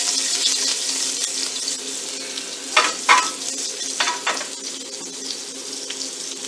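Garlic cloves fry in oil in a pan for braised short ribs, giving a steady, close sizzle with a few sharper crackling bursts partway through and no talking.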